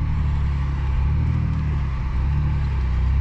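Mercedes G-Class Gelandewagen off-road SUV in stock setup, lockers off, crawling along a forest trail, its engine a steady deep low drone with faint rumbling from the track, close to the microphone and with no talk.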